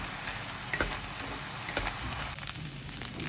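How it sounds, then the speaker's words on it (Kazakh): Chopped onion frying together with meat in a pan for a Bolognese sauce, a steady close sizzle with a few soft stirring clicks and no talking. "үстіне майдалап туралған пиязды салып, тағы да 10 минуттай қуырамыз"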